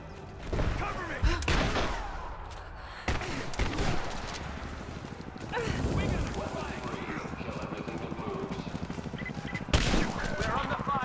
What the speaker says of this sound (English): We're under fire at the edge of the village.